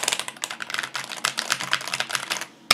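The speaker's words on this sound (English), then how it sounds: "Keyboard." Rapid typing on a computer keyboard, a close, steady clatter of key presses with no talk.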